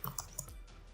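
Typing a command into a Windows Server 2019 machine produces a few soft, quick keyboard clicks, close and quiet, with no talking.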